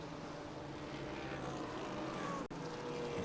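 Corvette race car at a Mid-Ohio vintage race, engine droning steadily as it runs on track with a rising whine, heard at moderate distance, with a brief dropout near the end.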